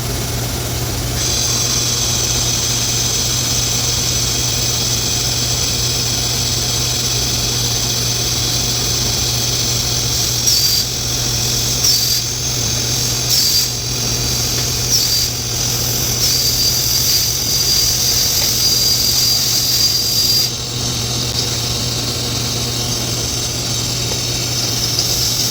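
A TIG welding arc struck with a 1/16-inch tungsten electrode gives a continuous buzzing hum with a bright hiss over it. It runs unbroken for about twenty-five seconds, with slight flickers midway and no voices.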